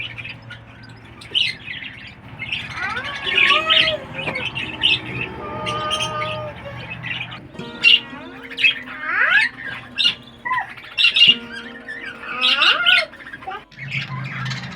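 Budgerigars in a small home aviary chirp and warble almost without pause. The calls are varied and close, with sharp squawks among whistled trills, and no voices are heard.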